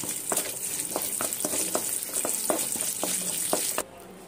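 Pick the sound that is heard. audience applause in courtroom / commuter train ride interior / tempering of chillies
tempering of chillies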